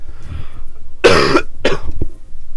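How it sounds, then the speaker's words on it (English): Two harsh, wet coughs in quick succession, close and loud, followed by a short throaty sound against a low background hum. "I need to cough up all this phlegm"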